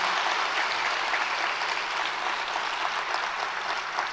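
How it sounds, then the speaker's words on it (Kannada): An audience at a public event for swamijis applauds loudly, a dense, continuous burst of many hands clapping throughout. "ಎಲ್ಲ ಸ್ವಾಮೀಜಿಗಳಿಗೆ ಜೋರಾಗಿ ಚಪ್ಪಾಳೆ ಹೊಡಿಬೇಕಂತ ತಮ್ಮಲ್ಲಿ ಕಳ್ಕಳಿ ಮನವಿ"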